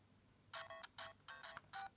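An FC Pocket handheld playing a Nintendo-style game: a run of bright, chirpy chiptune beeps in quick, evenly spaced bursts, clear and close with no talk.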